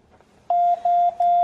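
Home security alarm keypad sounds a series of loud, high, steady electronic beeps while arming, in three evenly spaced long tones with short gaps.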